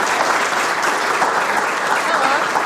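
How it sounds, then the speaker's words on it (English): Loud, sustained audience applause after a keynote talk, a dense continuous wash of clapping from a large crowd lasting nearly three seconds with no voices over it. "So a big round of applause to say thank you to Anna Maria"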